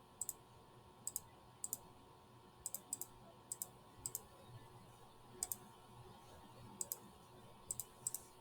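Buttons clicked on a graphing calculator, a quiet series of crisp taps in irregular pairs and singles over a soft background hum, with no voices.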